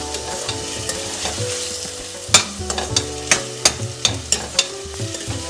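Onions fry and sizzle in a pan for pav bhaji, with a steady hiss under repeated sharp clacks of a spoon stirring against the pan, close up and without talking.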